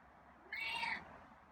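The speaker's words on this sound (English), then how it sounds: "that was kind of a purry meow there too" A feral cat gives a single short, raspy, purring meow, fairly faint over a quiet background.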